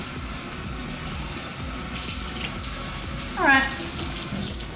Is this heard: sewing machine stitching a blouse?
no